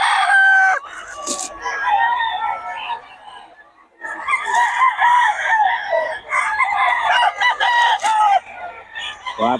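A rooster in rural Nueva Ecija crows several times on a rainy morning, loud and close, with clucking and other farmyard fowl calls between the crows.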